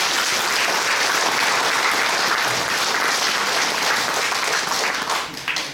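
Sustained applause from a symposium audience of priests, lawyers and guests, a dense steady wash of clapping that holds for several seconds before thinning slightly at the end.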